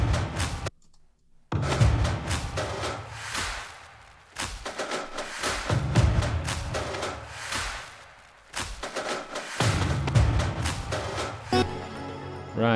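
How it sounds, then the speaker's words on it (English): Big drum hits grouped from another song's stem, booming low thumps with bright crashing transients in an irregular, dense rhythm, loud and up close, with brief drops to silence and no talking. "Big drums."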